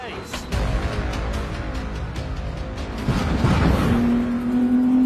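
Porsche 917 race car from around 50 years ago, an endurance racer, roaring with a loud, steady engine drone that swells and climbs in pitch partway through; a voice may be faintly present underneath.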